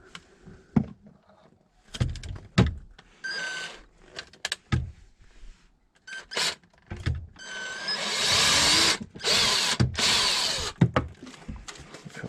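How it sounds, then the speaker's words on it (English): A power drill bores a hole through a caravan wall, with short whirring bursts and handling knocks building to a longer, louder sustained drilling run near the end, close by. "I'll just drill a hole at a suitable spot right in that corner"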